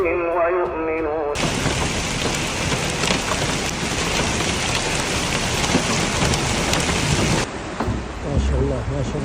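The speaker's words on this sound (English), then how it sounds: "Heavy rain and torrential rain occurred in the region in today's weather report." Heavy torrential rain pours in a dense, steady roar that fills several seconds, loud and close, cutting in abruptly and dropping away near the end, with a voice audible at the start and finish.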